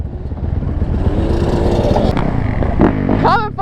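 Several motorcycles rev loudly and close by at a lot amid smoke, engines rising and falling in rapid throttle blips, with a shout and a brief voice near the end.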